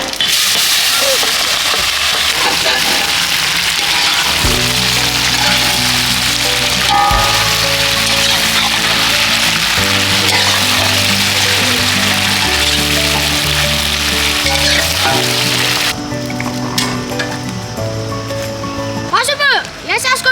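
Mixed vegetables sizzle in hot oil in a large pot while sambar rice is cooked for a crowd, a steady bright hiss running throughout beneath continuous music.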